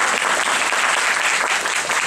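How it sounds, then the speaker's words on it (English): Loud, dense audience clapping after a Carnatic vocal concert performance, a continuous close burst of applause from the crowd with no voices on top. "Yeah, you can clap."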